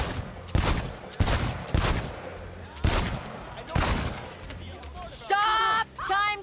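Gunfire at a shooting range in Cyberpunk 2077, several loud evenly spaced shots ringing out close by, followed by a character talking at the end.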